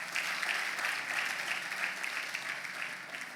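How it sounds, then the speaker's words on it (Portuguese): A church congregation claps steadily, a dense, even wash of applause filling the room that fades slightly toward the end, with no talk over it. "aplaudindo essas pessoas"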